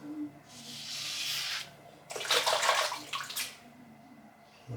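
Razor rinsed under running water during a head shave, with two close bursts of gushing, splashing water separated by a short quieter pause.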